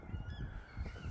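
Gulls calling outdoors ahead of stormy weather, a series of harsh honking cries repeating in uneven bursts over steady wind and background noise, fairly close and loud.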